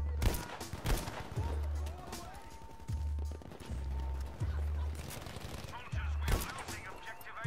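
Semi-automatic rifle gunshots in a first-person shooter video game, several spaced sharp reports with low thumps scattered through the stretch, under a player talking.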